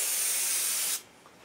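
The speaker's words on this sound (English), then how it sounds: "But of course, you got to spray it, shake it up." Rust Check rustproofing is sprayed from an aerosol can onto the underside of a Ford, a loud steady hiss lasting about a second before cutting off abruptly, with no talking.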